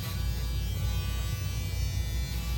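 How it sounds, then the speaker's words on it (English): Steady, close electric shaver buzz with a low mains-like hum, running continuously while a buzzcut is faded down to bald skin, with no talking. "I'm going to start flicking up and kind of pressing down on the shaver as well"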